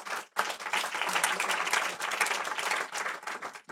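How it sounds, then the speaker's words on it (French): Audience applause at an entrepreneurs' meetup, a dense patter of clapping that starts after a brief pause and stays steady for a few seconds before thinning out, fairly faint and distant. "Vous pouvez applaudir Ilan, merci."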